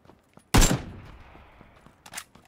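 A single loud, close gunshot in PUBG, fired while jumping, with a short decaying tail and a fainter crack following about a second and a half later.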